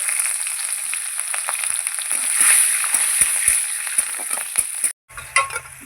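Green chillies drop into a loud, steady sizzle of hot oil tempering for chickpea dal, a few utensil clinks over the crackle before it briefly cuts off, then resumes.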